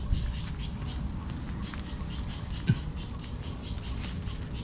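Light rain from a typhoon patters steadily in the background, a soft continuous drizzle with a single brief knock partway through.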